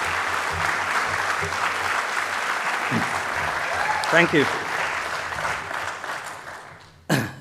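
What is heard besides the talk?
applause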